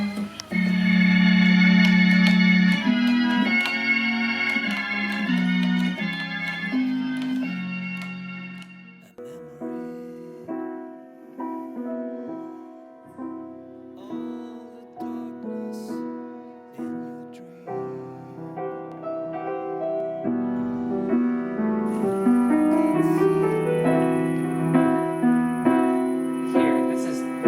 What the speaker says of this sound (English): Remember what you're hearing now is the piano.